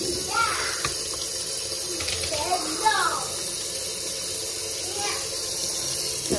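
Water runs from a tap into a small pot holding zucchini, a soft steady trickle with a few splashing bursts, while someone talks over it.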